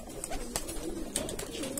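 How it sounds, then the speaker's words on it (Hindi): A flock of about two hundred pigeons in a breeding loft coos softly, with overlapping throaty calls and faint wing or movement sounds, fairly quiet and close. "150-200 या 200 करीब कबूतर होंगे इधर"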